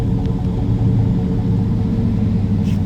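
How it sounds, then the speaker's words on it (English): A 2011 Chevrolet Silverado Crew Cab LT 4x4 pickup idles close by, a loud steady low rumble with a faint brief click near the end and no talking. "Truck has been running."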